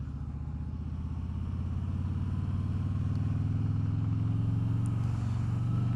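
A stock 2021 Harley-Davidson Road King Special with its 114 Milwaukee-Eight V-twin runs steadily and close by, a deep, even low rumble that holds throughout with no voices.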